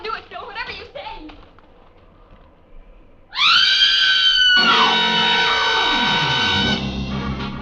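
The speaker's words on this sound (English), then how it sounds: "get over there inside the barn and scream. Long and loud, huh?" A woman's long, loud scream from inside a barn in a radio drama, rising abruptly after a few seconds of low background and holding strong and sustained to the end, with harmonics sliding downward as it fades.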